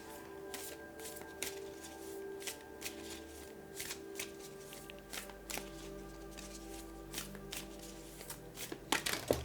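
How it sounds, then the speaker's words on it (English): Moonology oracle cards are shuffled by hand in a steady run of close, crisp riffling and tapping bursts, repeating over and over with no talking. "I will now draw a Moonology card to see what the moon wants to communicate for you for the month of June."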